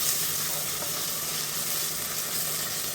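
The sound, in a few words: sautéing ginger garlic in oil for vegetable rice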